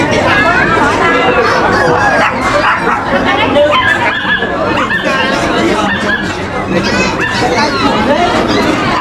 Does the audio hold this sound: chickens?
yes